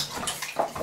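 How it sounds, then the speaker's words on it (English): Bathwater splashes around small children in a tub at bath time, a brief close flurry of sloshing and dribbling with no talk over it. "Everyone's splashing."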